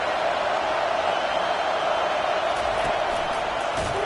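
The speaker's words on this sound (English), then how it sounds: "This crowd bringing the energy and noise early." Stadium crowd noise from the College Football 25 video game, a steady, dense roar of many voices filling the whole stretch at even loudness, with no distinct cheers rising out of it.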